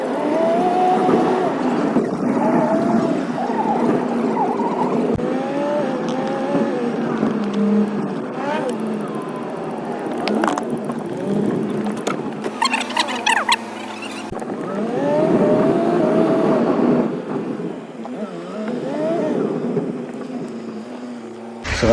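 A car driving on the road, its engine note rising and falling through gear changes with tire and road noise, some squeals and rattles, while people talk inside over it.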